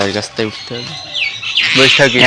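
A young myna chick calls insistently with shrill, rasping cries, close by, overlapping with a person's voice.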